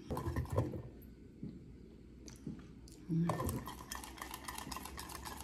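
Kale salad being stirred and mixed with a honey-sweetened tahini dressing, soft scraping and clinking of utensil against a bowl in short irregular bursts, close and fairly quiet, with a louder stretch of mixing near the end.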